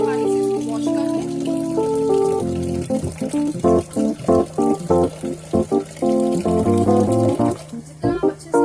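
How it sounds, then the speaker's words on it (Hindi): Water runs into a pressure cooker holding two bowls of chana dal lentils for washing, with splashing and pouring under an ongoing musical background; the water sounds are loud and close and come in uneven bursts. "हल्के पानी से इसको वॉश कर लें।"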